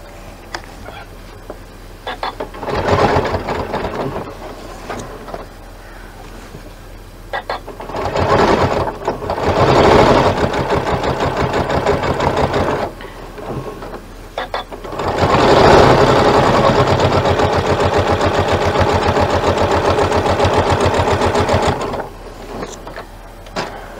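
A sewing machine stitches in the ditch on a quilt block, running in several whirring bursts of a few seconds each with quiet pauses between, close and fairly loud.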